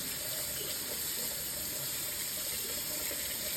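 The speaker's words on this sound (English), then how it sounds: "I'm going to clean it out with hot water to get rid of any fat" Steady running hot water splashes continuously, a broad hiss like a tap rinsing a strainer in a sink to clear fat left from making beef broth, with no talking.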